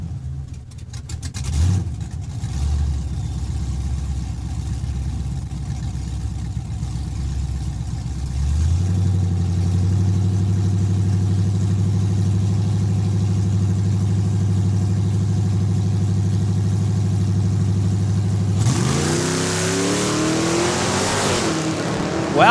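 A drag-racing car at Saskatchewan International Raceway launches and runs down the strip, its engine droning loud and steady as it pulls through the gears, with a sharp rise in pitch near the end.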